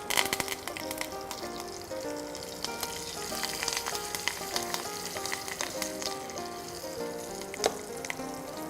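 Spices, chopped green chilies, curry leaves and asafoetida sizzle steadily in hot oil for a dhokla tempering, a continuous crackling hiss with sharp pops throughout.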